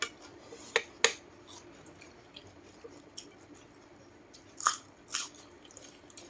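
Crispy pork from a crispy-pork shop bitten and crunched at a Thai home meal: a few sharp, close crunches spaced several seconds apart over quiet room tone, with no talking.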